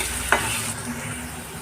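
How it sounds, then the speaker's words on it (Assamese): Carrots and potatoes for mixed vegetable bhaji fry in a hot pan with a steady close sizzle, and one quick scrape of a stirring spoon near the start. "গাজৰ আৰু আলুখিনিও ভজা হৈ গ'ল প্ৰায়"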